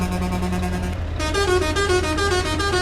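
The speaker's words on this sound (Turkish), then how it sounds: "havalı kornamız da var kardeş" A Scania truck's air horn blares in Euro Truck Simulator 2, a loud sustained multi-tone honk that cuts out briefly and returns as a richer chord over a low engine rumble.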